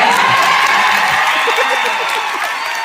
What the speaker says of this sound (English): They applaud that.